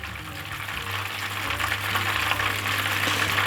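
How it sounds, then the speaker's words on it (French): Butter melting and starting to brown to noisette in a pan, a steady soft sizzle and crackle with a low hum underneath, constant and close throughout. "on va attendre que notre beurre soit noisette. Donc là on peut regarder, il commence à fondre."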